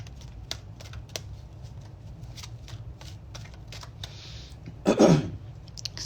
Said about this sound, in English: Okay, shuffle for another second.